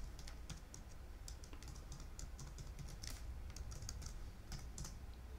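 Rapid clicking of typing on a computer keyboard while setting up an Azure virtual machine with PowerShell, an irregular run of close, light keystrokes under a steady low hum, with no talking.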